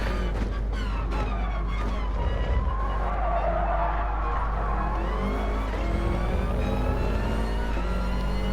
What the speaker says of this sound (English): Tom on the gravel again, really struggling to get to grips with the Subaru on the hard tyres around this circuit